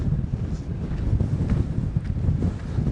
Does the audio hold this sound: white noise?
no